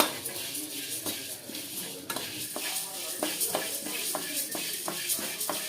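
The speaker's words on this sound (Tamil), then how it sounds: "இதை பாருங்கள், ஃபஸ்ட்டு மல்லியை வறுத்துருவோம்." Coriander seeds rattle and scrape against a dry pan as they are dry-roasted and stirred, with repeated soft clinks of a utensil, close and steady.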